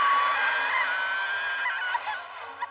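A woman's sustained, strained scream rings out loud and close, a horrific howl that trails off with a couple of ragged breaths at the end.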